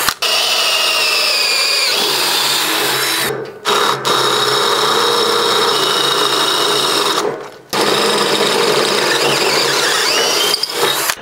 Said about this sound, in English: We drilled a new hole for the bolt that attaches the extension tube to the upper part of the Superfoot